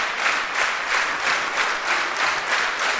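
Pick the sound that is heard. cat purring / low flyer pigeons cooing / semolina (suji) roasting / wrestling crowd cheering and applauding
wrestling crowd cheering and applauding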